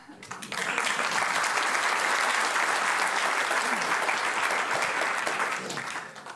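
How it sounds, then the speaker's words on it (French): A conference audience bursts into sustained applause, dense and loud clapping that swells quickly, holds for several seconds, then begins to taper. "je pense que vous pouvez applaudir avant l'heure"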